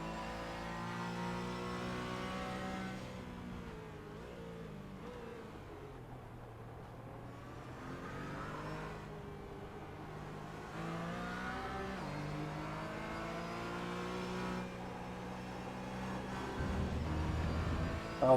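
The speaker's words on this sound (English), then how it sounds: "It was interesting listening to Landry's throttle through that corner." Race car engine in the iRacing sim at Silverstone International, throttle rising and falling through a corner with steady harmonic engine tone, revs swelling and easing, then climbing louder near the end, no talking.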